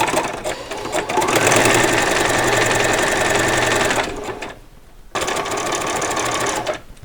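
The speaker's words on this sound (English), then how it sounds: "I'll do a few stitches on, and then I'll do a back stitch, and then I'll go right to the end and do a back stitch" A sewing machine fitted with a quarter-inch foot stitches a doll's coat seam, running loud and close in a fast steady whir for about four seconds, pausing briefly, then starting up again for another stretch.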